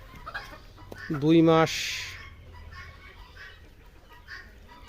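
Two-month-old farm chickens in Boroviti, Kishoreganj, Nilphamari give one short burst of clucking near the start, with someone talking over and around it and quiet barnyard noise behind.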